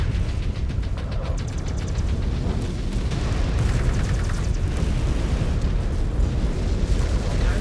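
Explosion of a destroyed mech in a combat video game, a loud sustained roaring blast with dense crackling debris that stays heavy and continuous throughout.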